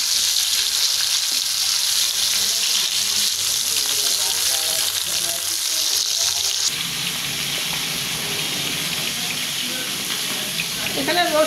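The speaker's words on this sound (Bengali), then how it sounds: "তেলটা গরম হয়ে গেছে, মাছ দিয়ে দিলাম" Carp pieces fry in hot oil on a tawa, giving a loud, continuous close-up sizzle that runs the whole time and changes texture slightly partway through.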